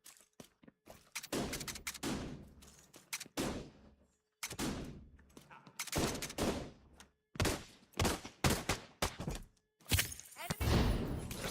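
Automated turret gunfire rattles in bursts in The Division 2, loud, close and percussive, with sharp volleys separated by short pauses.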